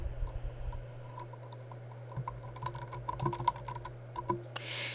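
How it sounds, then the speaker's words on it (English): A last name being typed on a computer keyboard: quiet, irregular clusters of crisp key clicks with short pauses between strokes, close up and with no talking. "we're going to type your last name"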